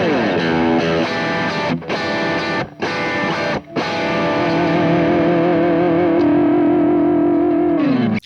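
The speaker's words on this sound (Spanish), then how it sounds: "si junto el Blues Driver, obtengo algo parecido a un fuzz bastante dinámico" Heavily overdriven Stratocaster electric guitar through stacked overdrive pedals including a Blues Driver, giving fuzz-like tone: sustained fuzzy chords with a few brief gaps between strums, loud and close, ringing out at the end.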